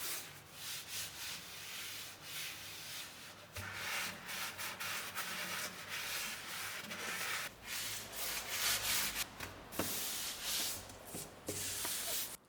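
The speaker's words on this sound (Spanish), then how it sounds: "lijo suavemente con una lija de grano 1200" Steady, close rubbing of 1200 grit sandpaper lightly sanding a coated wooden drawer, a continuous soft hiss of back-and-forth strokes with no talking.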